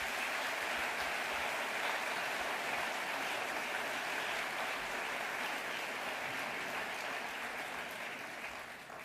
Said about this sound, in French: Dominique Souchet, je vous propose de l'applaudir pour le remercier de cet accompagnement